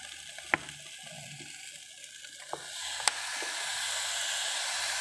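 Beef sautéing in fish sauce in a pan for papaitan, a soft steady sizzle with a few sharp scraping clicks of a utensil, the hiss swelling louder toward the end.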